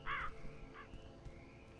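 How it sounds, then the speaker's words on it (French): A crow in a horror video game gives two caws, one loud harsh call followed by a shorter, fainter second caw over a low ambient game backdrop. "J'ai eu peur du corbeau"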